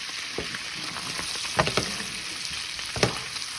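Fat renders and sizzles in a pan for a Bolognese sauce, a steady close crackle broken by a few louder spitting pops and stirring scrapes.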